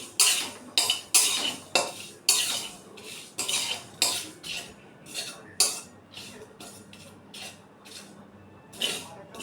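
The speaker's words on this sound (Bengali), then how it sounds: "এখন আমি কড়াইতে একটু শুকনো লঙ্কা আর একটু 5 ফোড়ন নিয়ে নাড়াচাড়া করে নেব একটু" A utensil scrapes and clinks against a dry kadai while dried red chillies and five-spice seeds are stirred, making repeated metallic strokes in an uneven rhythm, close and fairly loud, with no talking.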